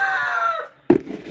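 A rooster from a backyard flock crows loud and close, one long drawn-out call that breaks off, followed by a brief clatter.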